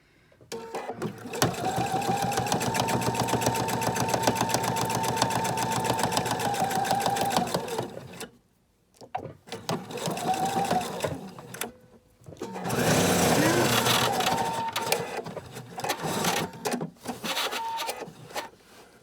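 A sewing machine stitches a placemat in long steady runs broken by brief pauses, the rapid needle rhythm close and loud, restarting between segments.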